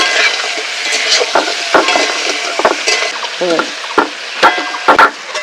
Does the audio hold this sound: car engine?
no